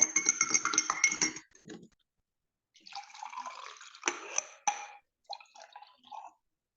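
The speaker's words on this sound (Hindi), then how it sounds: "पानी में हल्दी मिला के" Turmeric being stirred into water in a vessel, heard as a run of clinking, tinkling strokes, then a pause and further sporadic clinks and splashy stirring, close and fairly quiet with no talk.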